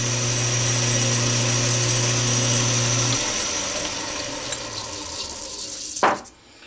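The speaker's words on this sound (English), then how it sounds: "Now I'm taking chamfer the top edge." A machine hums with a steady tone that drops out partway, leaving a continuous grinding hiss as the top edge of a small metal oiler part for a model steam engine is chamfered, ending in a brief scrape.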